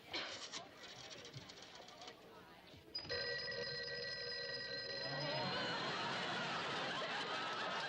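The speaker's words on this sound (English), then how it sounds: "Oh, there's the phone." A telephone bell rings with a sustained, steady electronic tone for a couple of seconds after some light chatter and laughter in a domestic scene, followed by a louder room murmur.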